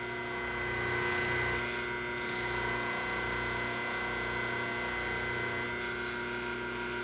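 A White-Westinghouse front-load washer motor spins freely on the bench, giving a steady whirring hum with a fixed tonal drone that holds even and close throughout, no talking.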